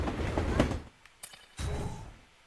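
Train rumbling along its track in The Amazing Spider-Man 2 on PS4, a loud steady rolling rush that drops away briefly with a few faint clicks, then surges back close.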